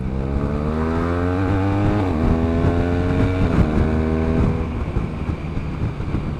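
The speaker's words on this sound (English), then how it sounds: "you do get a bit of valve noise. You can hear the top end whirring away" A BMW R1200RS motorcycle engine runs steadily, with a constant mechanical whir from the valve gear up top and a drone that dips slightly as revs change. Wind noise runs throughout.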